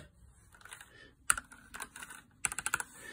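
Keys clack on a Royal Kludge RK98 mechanical keyboard with brown switches in short, uneven bursts, with a pause before a quick final flurry of presses.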